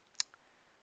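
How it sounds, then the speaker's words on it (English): A scalpel cuts paper freehand, one sharp click followed by a fainter second tick against a quiet background. "So I'm freehand cutting that with a scalpel."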